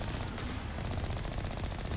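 Vehicle cannons in the Mass Effect Legendary video game fire in a steady, rapid stream of shots, a continuous rattling barrage at moderate loudness with no pauses.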